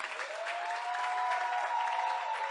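A church congregation at a Haitian worship service applauds, dense sustained clapping filling the space with a held musical tone running underneath.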